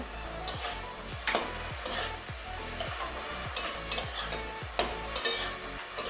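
Kalmi greens with fried bori stirred in a pan, a spatula scraping and tapping in a regular rhythm over a low sizzle, close and clear with no talk.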